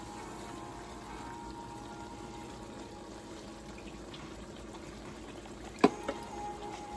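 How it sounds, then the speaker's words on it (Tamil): Water poured into a pan of ground-coconut gravy for egg kurma gives a steady, soft rushing wash throughout, with a brief sharp clatter near the end. "தண்ணி மிக்ஸ் பண்ணி தண்ணி ஆட் பண்ணி"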